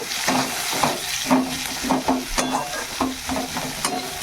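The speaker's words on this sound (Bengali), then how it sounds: "এই যে তেলের মধ্যে পেঁয়াজ দিয়ে দিলাম" Onions frying in hot oil in a home kitchen pan, a steady close sizzle with repeated stirring scrapes in an uneven rhythm, no voices.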